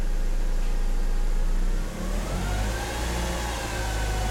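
A stock BMW engine with one resonator removed idles roughly on a cold start, a loud, steady low rumble with uneven pulsing that dips slightly midway and carries on alone without talk.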